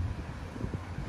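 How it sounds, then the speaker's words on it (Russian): Steady low wind rumble buffeting the microphone outdoors on Djerba, Tunisia, a constant broadband roar with no other distinct sounds. "Ветер на улице."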